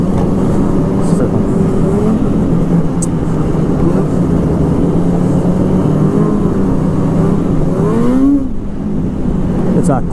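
Polaris Rush Pro R 600 snowmobile accelerating, loud and close, with a buzzing engine whose pitch climbs and rises sharply near the end, then cuts off.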